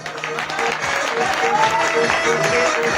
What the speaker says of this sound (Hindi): इनके लिए जोरदार ताली